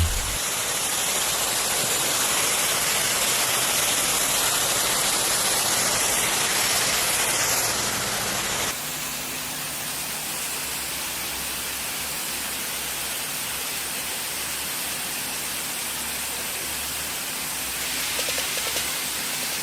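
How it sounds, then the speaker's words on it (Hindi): Water sprays from a shower over cows on an automated dairy farm, a loud, continuous broadband hiss that holds steady, shifting slightly in tone partway through. "चलो अब शावर में थोड़ी मस्ती मारी जाए, थोड़ा नहा लिया जाए"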